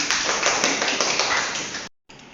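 Students in a classroom clapping for a group, a dense burst of applause lasting about two seconds, then a brief cut to silence and a short return of clapping.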